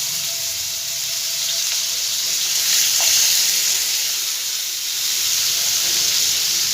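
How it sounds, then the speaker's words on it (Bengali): Chicken pieces frying in oil on a low gas flame, a steady even sizzle and hiss that swells slightly at times, close and continuous with no distinct stirring strokes and no speech. "গ্যাসের ফ্লেমটাকে আমি একদম লোতে দিয়ে দেবো। দিয়ে আস্তে আস্তে আমি ওগুলোকে একে একে ফ্রাই করে নেব।"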